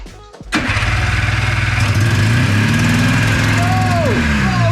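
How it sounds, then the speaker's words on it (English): A Yamaha Phazer snowmobile engine, left sitting outside for ten years and apparently firing on one cylinder, cranks and catches, then settles into a loud, close, uneven putter with a steady rhythm that holds to the end. "It's alive! Sounds like it's running on one cylinder."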